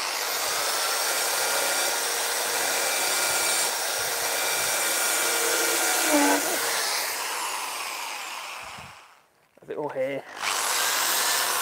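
A gargoyle letterbox being gently hand sanded, a steady, loud abrasive rushing that runs continuously for most of the clip, then briefly drops away before resuming, with a short spoken remark.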